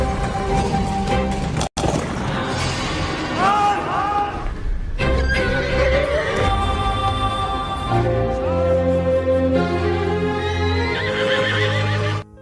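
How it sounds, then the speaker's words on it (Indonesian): A horse runs wild in a yard, neighing loudly several times between pounding hooves and crashing impacts, its shrill whinnies standing out over a busy, music-laden background. "Saat itu seekor kuda mengamuk di halaman."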